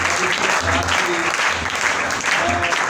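An audience at a stage event applauds loudly and continuously, a dense wash of clapping close by that never lets up, with a few voices calling out under it.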